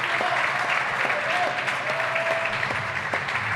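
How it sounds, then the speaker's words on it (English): Crowd at a PSA squash match at the Namibian Open applauds loudly and steadily after the last match of the day, with a few scattered voices and sharp claps standing out. "You can hear the crowd appreciating this all."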